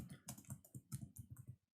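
Rapid typing on a computer keyboard while writing code for a stack program, a quick close run of crisp key clicks with uneven rhythm that stops abruptly near the end.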